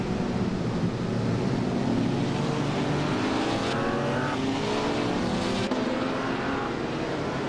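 Race cars roar around a track at the start of a race, their engines blending into one continuous, droning whine with slight pitch shifts. The sound holds steady at moderate level throughout, and no one talks over it.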